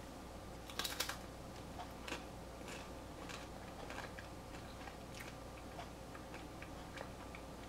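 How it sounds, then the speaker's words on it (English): Thin, very crunchy flax seed cracker being bitten and chewed close up, a quick cluster of sharp crunches followed by a steady run of small crisp clicks over a quiet background. "And it's actually crunchy, very crunchy and very thin flax seed."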